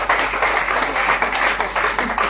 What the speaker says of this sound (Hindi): जोरदार तालियों से उनका स्वागत